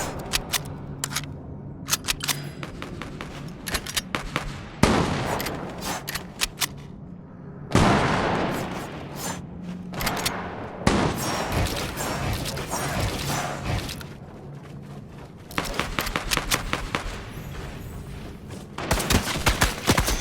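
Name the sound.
gunfire in the video game Fortnite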